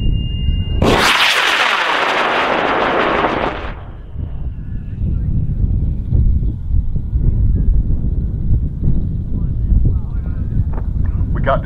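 A model rocket launches at the Kloudbusters Distant Thunder 2022 event with a sudden, loud roaring whoosh lasting about three seconds, then gives way to wind buffeting and faint outdoor noise.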